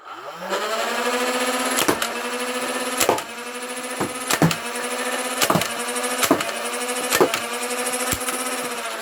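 A Nerf Ultra 2 blaster's flywheel motor whirs steadily while foam darts fire at a box in a regular series of about seven sharp snaps, the motor pitch rising and settling between shots.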